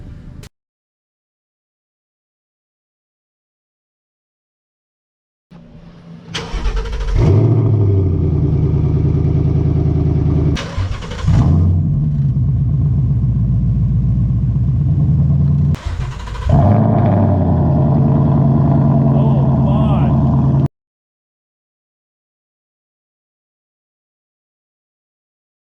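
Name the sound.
Ford Mustang GT exhaust with resonator delete, mid pipe, sport back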